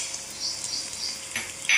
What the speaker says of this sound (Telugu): జీలకర్ర మళ్ళీ వేసుకున్నాం, ధనియాలు, మిరియాలు, మినుములు అన్నీ వేసుకొని బాగా ఫ్రై చేసేసుకోవాలండి